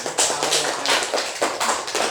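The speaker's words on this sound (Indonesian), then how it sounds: "ini semua sudah bisa tepuk tangan ini" Students in a classroom clapping together in short, irregular bursts of hand claps, close and fairly loud, with no talk over them.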